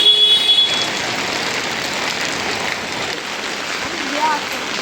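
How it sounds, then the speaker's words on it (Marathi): Heavy rain falling outdoors in Pune during windy weather, a dense continuous hiss close around, with a faint voice murmuring underneath. "पाऊस वाढलेला आहे."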